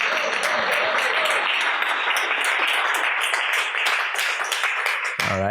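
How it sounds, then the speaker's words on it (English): A live podcast audience applauding at the close of a talk on ESG investing and blockchain, with steady clapping for about five seconds that ends abruptly, followed by a voice. "let's hear a round of applause"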